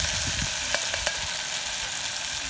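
Vegetables and ginger garlic paste fry in hot oil outdoors by a lake, giving a loud, continuous sizzle with a few sharp pops and crackles over the hiss.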